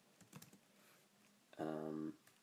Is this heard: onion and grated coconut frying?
no